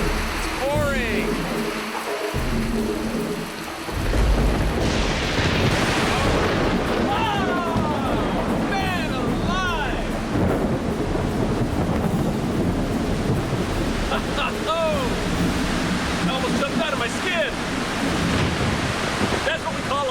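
Heavy pouring rain and gusting wind during the Catatumbo lightning storm, a dense roaring wash with a sudden surge partway through, while excited voices talk and exclaim over it.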